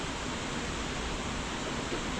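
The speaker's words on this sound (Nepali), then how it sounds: "यो नर्मो झरना" Nalmo waterfall in Dhading, Nepal roars as a dense, steady wash of rushing water, loud and unbroken throughout with no voices.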